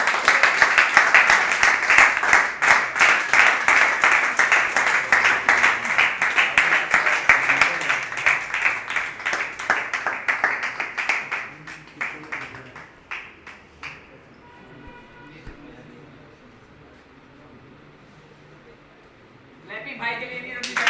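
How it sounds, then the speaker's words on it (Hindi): A large audience claps loudly and continuously to welcome Mr. Zuhaib Ayub on stage at a GMI Multan products distribution event. The applause is dense and steady for about twelve seconds, then thins out and fades into a quiet room. "तो सर आपकी भरपूर तालियों में मैं बुलाना चाहूँगा सर मिस्टर ज़ुहैब"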